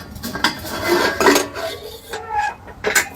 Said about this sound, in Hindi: ये सर अपना एक बर्तन निकल गया है।